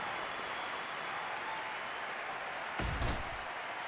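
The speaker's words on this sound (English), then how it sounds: "The crowd coming alive here." Faint, steady crowd noise at a live wrestling event swells into a brief burst of applause and cheering near the end, distant and low in level.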